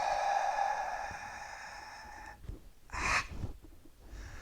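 A person breathes out forcefully from the diaphragm in a long, steady hiss, then gives a sharp, close push of breath. A few softer exhalations follow, with no talk.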